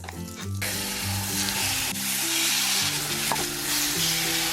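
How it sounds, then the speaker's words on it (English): A steak frying in butter in a pan gives a loud, steady sizzle and crackle from start to finish, while background music plays along and no one speaks. "Flip it to the other side. Salt, pepper. 1 tablespoon of butter."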